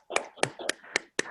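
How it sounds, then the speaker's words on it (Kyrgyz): Five separate sharp hand claps at an even pace, close and distinct, for a teacher at the end of an online university class, with a faint voice between them. "агайга эме кол чаап койсок"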